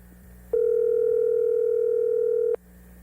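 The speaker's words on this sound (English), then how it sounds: "It's ringing." A single continuous telephone ringback tone sounds while a call is placed, one steady unbroken beep of about two seconds that starts and stops abruptly, clear and alone over a quiet background hum.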